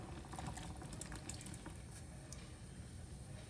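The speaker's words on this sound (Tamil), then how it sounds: "கூட வந்து நான் 1/2 கப் பால் வந்து சேர்த்துக்கிறேங்க." Half a cup of milk poured into a cooking pot for sweet milk dumplings, a steady liquid splash and gurgle running close and continuous with no break.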